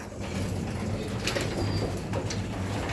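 Pigeons or doves coo softly near an open doorway, a low steady murmur of calls under constant background noise, with a faint flutter now and then.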